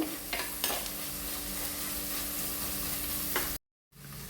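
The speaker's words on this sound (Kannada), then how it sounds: "ಟೊಮೆಟೊವನ್ನು ಕೂಡ ಹಾಕಿ ಟೊಮೆಟೊ ಕೂಡ ಚೆನ್ನಾಗಿ ಫ್ರೈ ಆಗಬೇಕು." Tomatoes frying and sizzling in a pan for a spicy prawn red gravy, a steady broadband hiss with a few stirring scrapes, close and continuous before a brief silent gap near the end.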